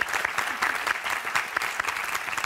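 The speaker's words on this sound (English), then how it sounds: "let's give Karen a round of applause." Studio audience applause at a TV talk show: dense, close rhythmic clapping from many hands, sustained at an even level throughout the short span with no voice over it.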